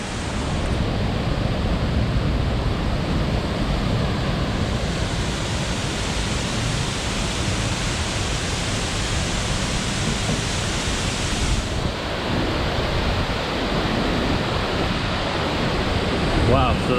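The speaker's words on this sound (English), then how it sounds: "the first waterfall here on the trail is insanely cool" Waterfall on a mountain trail in Chiapas, a steady loud roar of rushing water that fills the whole clip, close by and continuous with no voices over it.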